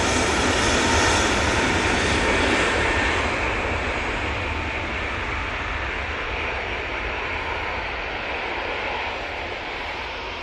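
A TUI Boeing 787-9 Dreamliner landing at Manchester Airport: a broad, loud jet roar that swells early then slowly fades as the aircraft passes, heard from outside with no talk.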